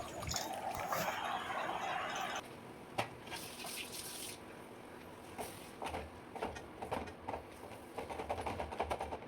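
Tamarind water poured into a brinjal masala (thokku) cooking in a pan: a steady rushing pour lasting about two seconds, then quieter sizzling and scattered crackles as it mixes in.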